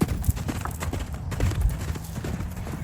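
A loose horse gallops around, its hoofbeats thudding in a steady, fairly close drumming rhythm with a few louder strikes and no talk over it.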